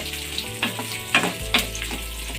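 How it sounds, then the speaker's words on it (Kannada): Chicken pieces fry with capsicum in a hot pan, with a steady close sizzle broken by a few scraping stirs and a low hum underneath. "ಕ್ಯಾಪ್ಸಿಕಮ್ನ ಒಟ್ಟಿಗೆ ಹಾಕ್ಕೊಂಡು ಫ್ರೈ ಮಾಡ್ಕೊಳ್ಳೋಣ"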